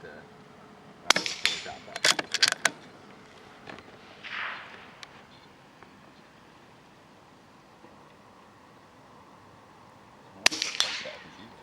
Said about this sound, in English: Bing. Bit of ricochet there.